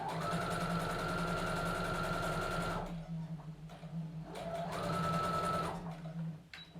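A sewing machine stitches the shoulder seam of a Mira dress, running in two steady whirring bursts close by with a short pause between them and no talk.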